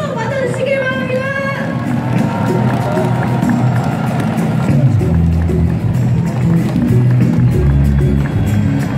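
A crowd cheers and applauds at a political party launch rally. The roar is dense and continuous, and a brief voice is heard at the start before the noise swells.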